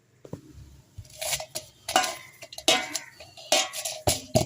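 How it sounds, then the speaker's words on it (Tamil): Batter for tea-shop kajira, made from rice flour and egg, being stirred in a bowl, with uneven scraping swishes and light clinks of a spoon against the bowl, close and fairly quiet. "இது அப்படியே ஒரு பேட்டர் மாதிரி கிண்டுவோம்"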